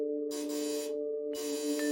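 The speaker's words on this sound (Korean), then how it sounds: "저는 등기를 전달해야 돼서 문을 두드리며 초인종을 눌렀습니다" A doorbell rung at a mansion apartment door by a postal carrier, two sustained electronic chimes sounding in turn, fairly close and clear with no talking.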